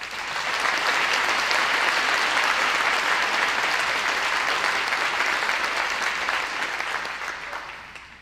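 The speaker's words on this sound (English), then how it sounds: "Let's give this group a round of applause." An audience at a senior awards night gives a group of students a full round of applause, loud and sustained dense clapping that stays even for several seconds before easing off at the end.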